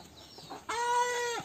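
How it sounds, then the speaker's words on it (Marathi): A chicken in a village farm poultry coop where eggs are laid gives one clear, loud cluck-like call with strong harmonics, held for under a second after quieter rustling at the start. "ही कोंबड्यांची पोटरी."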